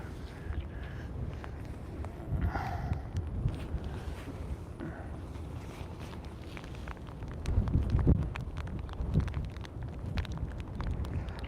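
High wind roars at SpaceX Starbase in Boca Chica, Texas: a steady broadband rumble and buffeting against the microphone, with gusts swelling around the middle and strongest later on, and no voices.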